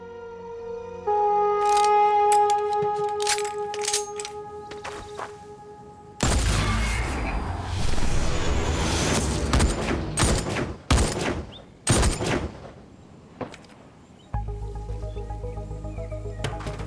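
Gunfire in an action thriller film scene: rapid bursts of shots and sharp cracks over loud dramatic music, with a dense volley in the middle and scattered single reports.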